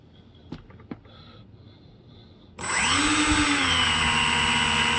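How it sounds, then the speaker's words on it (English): Small electric thrust motors on a homemade foamboard snow skimmer spin up abruptly after a few light clicks, holding a loud, steady high-pitched whine with a faint rising tone as the propellers reach speed close by. "You can hear that motor spinning"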